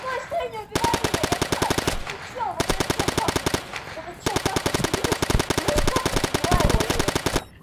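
A video game machine gun fires in loud rapid bursts, three long strings of shots split by short pauses.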